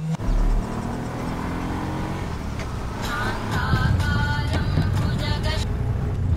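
A car engine runs steadily nearby with a low, continuous rumble that swells slightly partway through, and faint voices are heard in the background.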